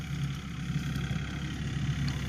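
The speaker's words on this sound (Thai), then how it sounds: "นี่รถไถมาแล้วนะครับ" A farm tractor's engine running nearby with a steady low throbbing idle in an outdoor logging setting, continuous and fairly loud with no voices.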